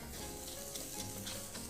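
Chopped yellow onion and minced garlic sizzling with rice in hot oil in an Instant Pot, a steady close crackling hiss with faint stirring scrapes, no talking.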